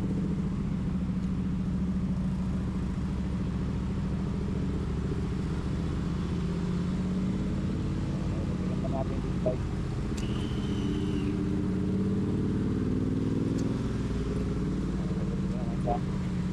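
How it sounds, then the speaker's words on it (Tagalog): Morning road traffic around a Honda Click 125 scooter on a Bulacan street, with a steady, close engine and traffic drone running throughout and a few faint horn-like tones. "Ganito ang traffic sa may tapat ng Holy Spirit"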